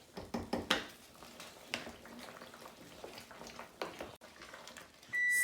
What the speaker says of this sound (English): go ahead and just let it continue to simmer and to keep stirring